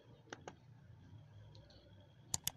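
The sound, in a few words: computer mouse clicking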